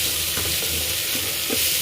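Tomatoes with rock salt sizzle and fry in a pan while a spoon stirs them, giving a continuous close hiss broken by soft scraping and clinking strokes, with no voices.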